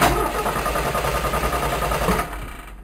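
A car engine is cranked and fails to start, giving a steady, loud mechanical churning that runs for over two seconds before fading away.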